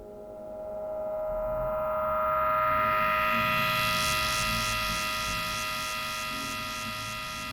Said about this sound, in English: To me, that synth almost sounds like a normal squelch